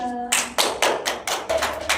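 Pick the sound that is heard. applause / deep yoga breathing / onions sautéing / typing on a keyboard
applause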